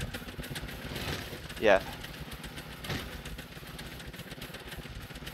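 In Scrap Mechanic, a tank-like spider-shaped vehicle's engines run at full power, giving a steady, moderate mechanical drone throughout, with a person speaking briefly over it.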